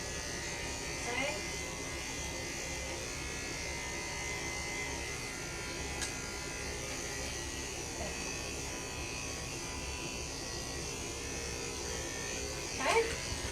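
Electric clippers buzz steadily at close range while trimming a dog with an injured back, holding a continuous hum throughout with a brief louder surge near the end.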